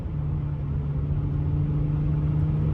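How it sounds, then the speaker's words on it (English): A Renault Vel Satis with a 3.5 V6 engine idles steadily close by, a smooth continuous low rumble with a faint hum and no revving, heard alone. "Now the engine is alive."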